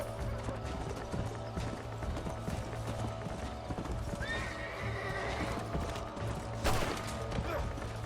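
Horse in the Red Dead Redemption video game, with a steady run of clip-clop hooves through the clip and a clear neigh and whinny near the end, mixed with creaking game ambience.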